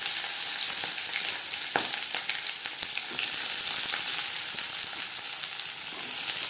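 Chopped onions hiss and sizzle steadily in hot oil that was just used to crisp-fry chillies, with scattered crackles and pops and occasional stirring clicks, close and continuous with no talk.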